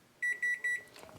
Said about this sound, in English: The buzzer has been going off for our biscuits